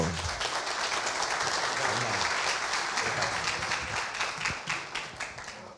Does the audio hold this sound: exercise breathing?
no